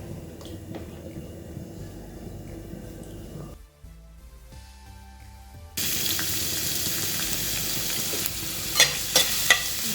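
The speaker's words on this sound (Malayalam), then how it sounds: "ഞാനൊരു 2 ടേബിൾ സ്പൂൺ എണ്ണ ഒഴിച്ചു കൊടുക്കുകയാണ്." About two tablespoons of cooking oil go into a pan while making vegetable masala filling for veg momos. A low kitchen hum gives way to a louder, hissing, sizzling stretch with a few sharp clinks near the end.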